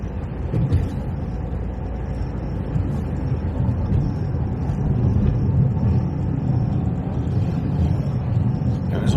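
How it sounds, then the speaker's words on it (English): A car drives along a B road in Kent, its engine and tyre rumble steady and close throughout, with a faint high whine above the road noise and no talk. "Driving over the A2."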